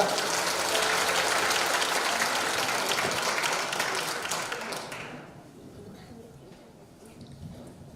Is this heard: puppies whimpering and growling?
no